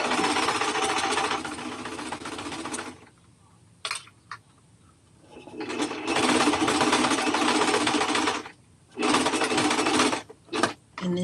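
A sewing machine running on the loud side sews a stay stitch a quarter inch from a fabric edge. It comes in loud bursts of whirring stitching, two long runs and a few short ones, with quiet pauses between.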